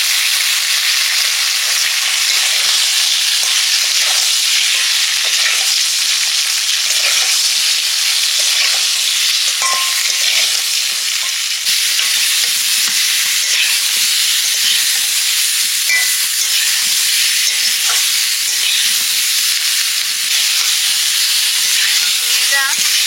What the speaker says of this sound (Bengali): ঝিঙেটা হালকা ভেজে নিয়েছি